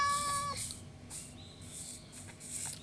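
A cartoonish video-game cat meows once at the start with a clear tonal cry, followed by soft scratchy game noises, close and fairly quiet.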